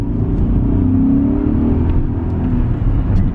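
A naturally aspirated car engine revs up under acceleration, a steady, loud, close low rumble with a slight rising whir and no voices.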